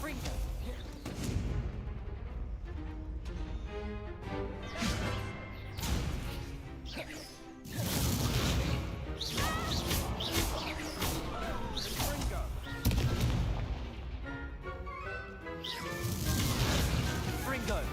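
Fiery spell blasts crack and boom in the video game Hogwarts Legacy amid a dense game soundtrack and effects, with repeated loud bursts and crashes, a big hit near the middle and another later, while a voice talks over it.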